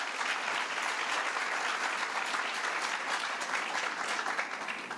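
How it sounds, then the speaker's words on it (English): Sustained applause from a large audience at a business leaders forum in Tanzania, a continuous even wash of clapping across the whole stretch. "So please give them a round of applause."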